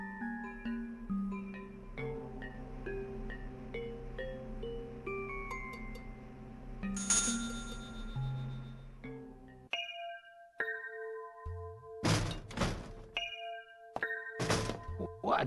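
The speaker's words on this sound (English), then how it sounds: "Ring that bell!" A bell rung at a herbalist's shop counter in the video game Shenmue 2, giving a few bright, ringing strikes that stand out after in-game music and footsteps fall quiet.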